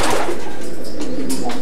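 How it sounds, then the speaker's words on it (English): Racing pigeons cooing in individual breeding pens at a racing pigeon stud, loud and close with repeated soft throaty coos and some wing or movement noise. "The 22 families of pigeons housed here are kept in individual breeding pens."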